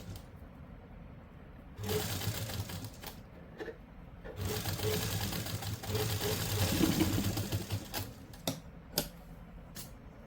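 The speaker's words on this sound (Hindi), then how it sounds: "इस तरीके से बिल्कुल फिनिशिंग के साथ हम मोटी सिलाई से ही सिलाई लगा लेंगे।" A sewing machine stitches a simple suit using a thick stitch. It runs in two rattling bursts with a short pause between them, then trails off into a few clicks, with no voices.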